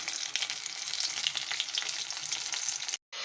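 Battered soya chunks deep frying in hot oil for chilli soya give a loud, steady, close crackling sizzle that runs unbroken until a brief cut near the end.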